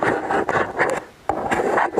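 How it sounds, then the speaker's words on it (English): A gloved hand's finger scratches and rubs against a camera body while reaching to stop recording, giving close, loud rasping scrapes in repeated bursts with a brief quiet gap midway. "Scratching noise, it's me with my finger hanging out my glove trying to turn the video off."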